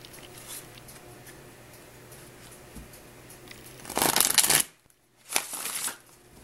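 Tarot cards are shuffled close up in a quiet room, first as a soft steady riffle, then as two loud, dense bursts of rapid card flutter separated by a short silence.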